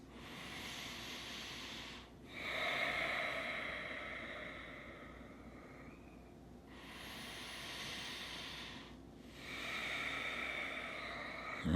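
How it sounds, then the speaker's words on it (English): Slow, deep breaths are drawn in and let out, each a long airy hiss close to the mic, with brief quiet pauses between them and no talking. "I'm still getting good, complete, slow breaths going in and out"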